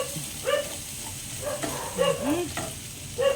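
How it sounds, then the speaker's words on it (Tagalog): Spaghetti sauce being stirred in a pan, with a few soft scraping strokes spread through the clip over low cooking noise; a couple of brief higher squeaks stand out near the start and end. "Haluin din natin to. Haluin natin kung didikit-dikit sila."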